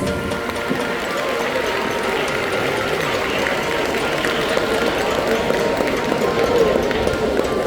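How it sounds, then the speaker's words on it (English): Dense, loud applause from a school arts fest audience, steady and sustained throughout, with crowd murmur mixed in. "One more round of applause because these two boys conquered our hearts during their performance and they deserve it."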